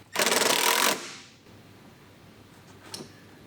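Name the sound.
tightening mud flap mounting bolts on a BMW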